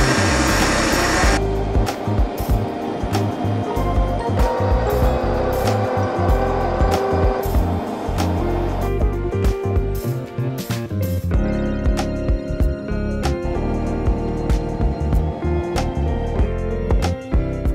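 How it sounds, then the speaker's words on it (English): Metal being machined for a custom pedal box on a jet tank racer, a loud, steady grinding and whirring that runs without a break and changes pitch partway through, with no talking over it. "So I need to machine this piece out now to hold the thread to bolt something to."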